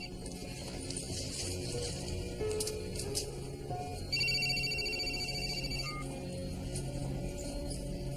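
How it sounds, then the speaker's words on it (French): Mobile phone ringing in a hospital emergency room scene, a repeating electronic ringtone with tonal beeps over steady background noise and medical equipment hum, moderately loud and continuous. "Denise, virez-moi ce téléphone"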